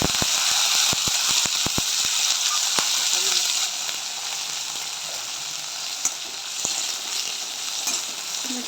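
Tomatoes and carrots sauté in a pan with mustard seeds and urad dal, giving a steady, close sizzle and crackle. A few sharp clicks of stirring sound early, and the frying eases slightly partway through with no voices.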